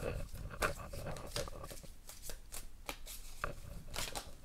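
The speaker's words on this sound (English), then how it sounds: "let's shuffle a bit more." Soft, repeated riffling and flicking of shuffled tarot cards, close by and quiet, in uneven bursts with no talking.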